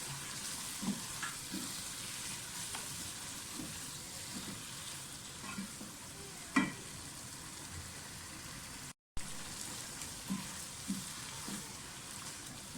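Masala with chili powder and chopped tomatoes frying in a pan for a dhaba-style mixed vegetable dish, a soft steady sizzle with occasional stirring scrapes and clinks, fairly quiet, with a brief dropout near the end.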